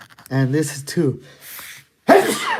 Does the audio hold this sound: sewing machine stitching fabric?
no